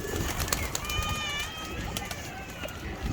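Pigeons on a rooftop in strong evening wind, with faint cooing and wing flutters over a heavy, gusty rush of wind and rustling; a voice is also heard.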